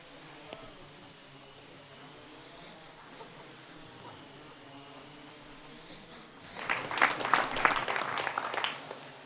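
Three quadcopters carry a net together with a steady high-pitched rotor buzz throughout; it swells much louder and rougher near the end as the craft draw close.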